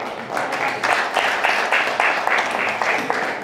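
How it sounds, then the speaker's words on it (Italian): A crowd applauds Pro Loco volunteers at an awards ceremony in a formal Senate hall in Rome, with a rolling, uneven burst of clapping that swells and pulses through the whole moment. "un grande applauso e un grazie per aver scelto un nuovo modo di fare Proloco"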